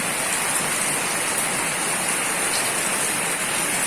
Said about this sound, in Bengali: বাইরে দেখো মুষলধারে কি বৃষ্টি হচ্ছে